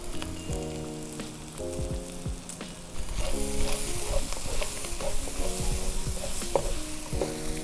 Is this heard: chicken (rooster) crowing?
no